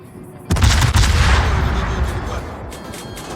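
A World of Warships main battery salvo from the Italian ship Venezia, a sudden heavy boom with a second crack close behind, then a long rolling rumble that slowly fades.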